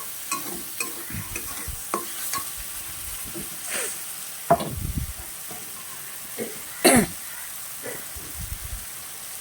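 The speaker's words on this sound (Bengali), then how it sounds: "ভালোভাবে নাড়াচাড়া দিয়ে নিতে হবে" Potatoes for vegetarian aloo dum frying in an oily pan while being stirred, with soft continuous sizzling broken by a few scraping, clattering stirs, close by, and faint talk in places.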